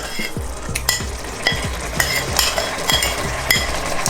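Locust beans (iru) are stirred into a simmering pot with a spoon, a regular scraping sweep about twice a second over a constant bubbling sizzle, close and fairly loud.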